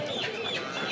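Chickens cluck amid the busy din of a rural poultry market in Ashulia, where farm and local breeds are sold; the brief calls are dense and mid-distance, blended with crowd bustle.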